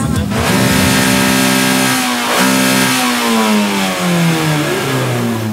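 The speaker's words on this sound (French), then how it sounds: "c'est le concours du pot d'échappement qui fait le plus de bruit" Tuned car exhaust at a tuning-fan decibel contest, revving hard and loud in long sweeping bursts, pitch rising and falling as the throttle is worked, with crowd noise faintly underneath.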